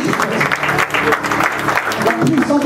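A church congregation at a healing service applauds loudly and continuously, close and dense, with voices and music mixed in under the clapping.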